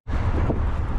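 Wind rushing over the microphone while cycling on a breezy day in South Korea, a loud, steady low roar that starts abruptly and carries through the whole second with no talk.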